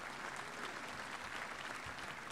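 An audience at a snooker match applauds steadily, a dense, even clapping that carries through the whole clip without speech.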